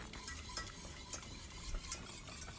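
Tarhana soup being stirred in a pot on the stove, a spoon scraping and swishing in a steady, continuous rhythm with faint clinks of utensil against metal, fairly quiet and close, with no talking.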